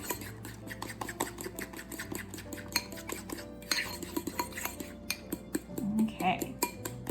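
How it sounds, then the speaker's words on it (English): A spoon stirs a thick gelatin mixture in a bowl, giving rapid rhythmic scraping clinks against the sides, close and fairly quiet, with a brief murmur of voice. "Okay, we're going to mix and mix and mix."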